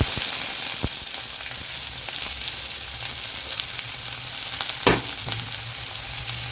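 Onion and green chili frying in a pan, a dense, steady sizzle up close with a few sharp clicks of a spoon against the pan and one louder scrape near the end.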